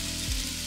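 Sliced onion, chopped garlic, a scotch bonnet pepper and scallion frying together in a pot for Jamaican brown stew chicken, a brief, close, steady sizzle with a faint stir.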